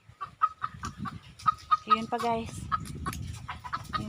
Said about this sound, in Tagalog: Narinig nyo yung ingay ng manok.